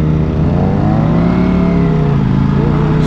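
A Ducati Panigale V4 S sport motorcycle engine revs loud and close, its layered tone climbing and easing through changing pitch over a steady roar.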